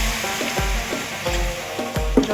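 Sizzling in a frying pan just after water is poured in, a loud bubbling hiss with repeated short scraping strokes of stirring across the pan.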